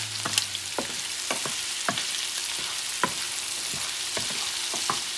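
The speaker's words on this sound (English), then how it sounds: "you let it cook until the shrimp is fully cooked" Shrimp sizzle steadily in a hot pan, a bright continuous crackle broken by regular scraping strokes of a utensil, close and clear with no voices.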